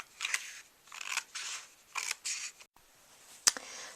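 Scissors snip through long, thin strips of brown paper for an Easter egg basket card, giving several crisp cutting bursts in a steady rhythm, then a short pause and one sharp final snip, close and clear with no talk.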